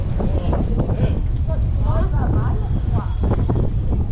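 Wind on a hot beach in Bulgaria, buffeting the microphone as a steady low rumble throughout, with faint voices and other beach sounds in the background.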